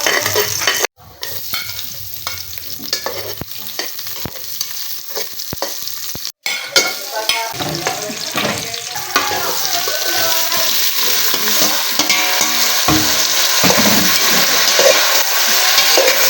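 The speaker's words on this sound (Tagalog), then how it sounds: "Habang pinapainit yung mantika" Oil sizzling and spattering loudly in a pan as food fries, a steady crackling hiss that runs throughout with brief clatter at the start.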